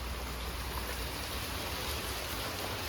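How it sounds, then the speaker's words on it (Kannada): Steady rain falls outside a house in Mangalore, a soft, even hiss of drops on the ground and tiles that holds constant throughout with no voices. "ಹೊರಗಡೆ ಮಳೆ ಬರ್ತಾ ಉಂಟು"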